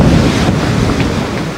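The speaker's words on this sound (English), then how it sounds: "Flame the wave, that was a wave." Heavy ocean surf crashes against a racing sailboat with an all-female crew attempting a non-stop round-the-world record, a loud, continuous rush of water and wind battering the microphone.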